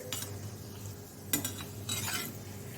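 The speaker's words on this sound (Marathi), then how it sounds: "आणि दालचिनी थोडंसं परतूयात" Cinnamon and curry leaves sauté in hot oil in a pan for Kolhapuri-style dry chicken, giving a soft steady sizzle broken by several close, scraping stirs of a spoon against the metal.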